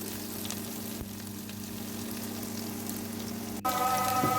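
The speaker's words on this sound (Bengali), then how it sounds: "এরপরে আমি গরম তেলের মধ্যে পেঁয়াজ কুচি দিয়ে দিলাম" Chopped onion fries in hot oil in a pan, giving a steady, even sizzle that turns louder and brighter near the end.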